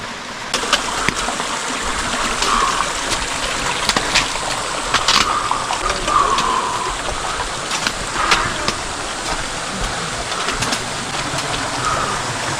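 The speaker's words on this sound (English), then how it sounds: "I believe that this little stream here," A small stream trickles and gurgles steadily in a desert canyon in the Organ Mountains, a soft continuous water wash with occasional brighter splashes close by.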